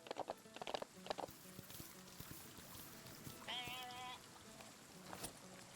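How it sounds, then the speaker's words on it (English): A single sheep bleat, a short wavering cry lasting under a second, rises in the middle of a quiet stretch with soft, scattered knocks and rustles around it. "that sheep just sounded so fucking funny for some reason."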